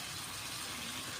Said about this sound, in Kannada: ಈಗ ಹುಣಸೆ ಹಣ್ಣಿನ ರಸ ಹಾಕಿ